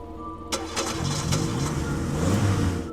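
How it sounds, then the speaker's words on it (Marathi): A car engine cranks and catches about half a second in, then settles into a steady, fairly loud idle that continues to the end. "पुन्हा कार स्टार्ट केली"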